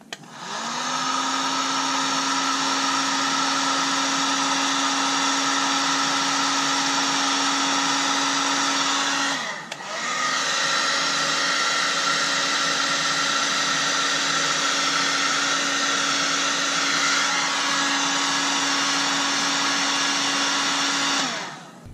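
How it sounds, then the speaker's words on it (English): A heat gun shrinking heat shrink tubing on trailer LED wiring runs as a loud, steady whine and blow, cutting off briefly midway before starting again, with no talking. "Then I'll take my heat gun."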